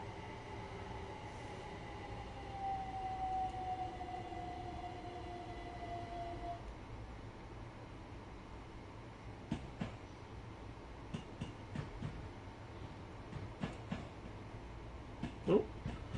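A Class 313 electric train in Train Sim World 2 rumbles along over London Viaduct, a quiet steady running drone with a fading tonal whine, then soft rhythmic clicks of wheels over rail joints.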